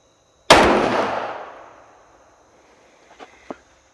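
A single loud rifle shot fired at an outdoor range during a chronograph test, a sharp crack followed by a long rolling echo that fades over about two seconds, then a couple of faint metallic clicks.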